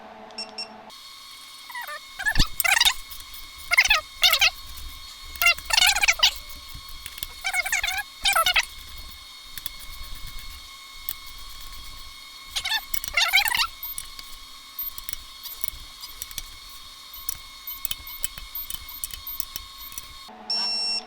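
A torque wrench tightens 4L65E transmission bolts to 33 foot-pounds on a 2005 GTO rebuild. Repeated bursts of shrill electronic beeping stand out over a steady high tone, in several groups across the passes.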